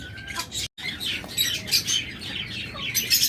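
Caged budgerigars and lovebirds keep up a busy, overlapping chatter of bright chirps and sharp squawks, fairly close, with a momentary gap early on.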